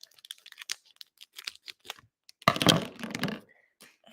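Close, sharp snipping and cutting of a box's packaging, with a few light clicks and taps first, then a dense burst of crackling cuts and rustling that trails off.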